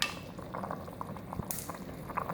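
Flour slurry being poured into simmering beef nihari to thicken it, a soft liquid pour and bubbling over steady low kitchen noise, close and fairly quiet, with no talk.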